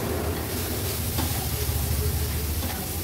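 Agri Koli masala and garam masala fry in oil over a low flame for a spicy chicken curry, giving a dense, continuous close-up sizzle and hiss without speech.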